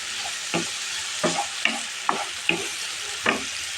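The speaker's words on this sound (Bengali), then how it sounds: "এখন কিছুক্ষণ আবার নাড়াচাড়া করব নাড়াচাড়া করে একটু লাল হয়ে গেল" Chicken filling for chicken rolls being stirred and fried in a pan with vegetables, a steady sizzle broken by about six sharp scraping strokes of the spoon, close and clear with no talk.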